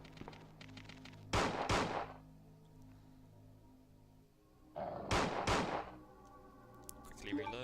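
Two loud bursts of rapid gunfire in Resident Evil 2, each lasting under a second, separated by a few seconds of quieter game ambience with low tonal hum.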